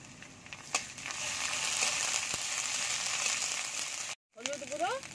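Ginger, cumin and chili pastes sizzle steadily in hot oil with bay leaf and five-spice, a soft broad frying hiss broken by a brief pause and a few scraping stirs near the end.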